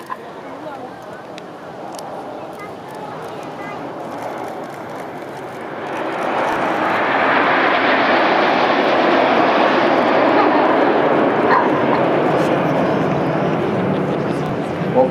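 Fixed-wing jet aircraft at the Sunderland Airshow roar overhead as a broad engine rush that builds to a loud, sustained pass midway, while a commentator talks over the public address throughout.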